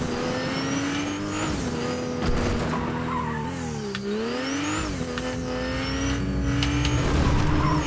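A car in the Fortnite video game drives hard, its loud engine tone rising and dipping while the tires skid and squeal almost continuously throughout.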